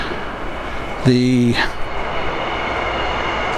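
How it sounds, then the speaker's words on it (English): A train going past outdoors, a loud broad roaring rumble resembling an aircraft, with a brief horn-like tonal burst near the start, continuing steadily; a voice says a single word. "excuse that horrible noise, that's a train going past."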